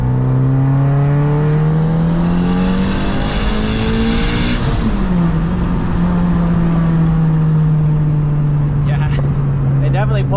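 A Mitsubishi Evo wagon with a new turbo accelerates hard on the street, its engine note climbing steadily with a brief shift around the middle and then rising again, loud and close from inside the car.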